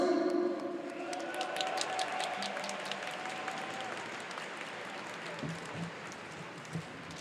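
Audience at St George's Hall breaking into applause for a performer at a guitar event, loud at first then thinning into scattered claps.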